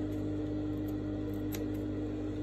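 Scissors snipping notches into the fabric seam allowance of a mini pencil skirt, a few soft crisp cuts over a loud steady hum, close and fairly faint against the background noise.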